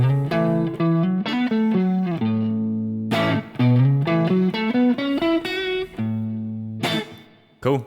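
Electric guitar playing a pentatonic lick in pattern 3, with a run of clear single notes and bends and a slightly driven, effected tone, loud and close with no talking.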